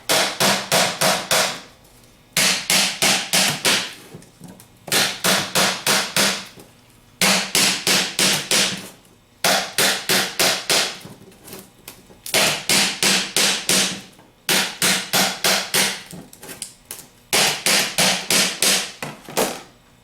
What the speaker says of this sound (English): tap straight off with the hammer on the other side